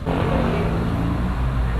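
An automatic scooter engine revs in a steady, continuous drone with a low rumbling tone, heard close and alone.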